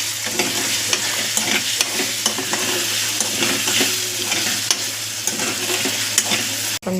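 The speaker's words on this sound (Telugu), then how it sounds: "పన్నీర్ ఇట్లా ఆయిల్లో కొంచెం ఫ్రై చేసుకోవాలి" Paneer pieces fry in hot oil in a pan, a steady loud sizzle with frequent stirring scrapes throughout, ending abruptly.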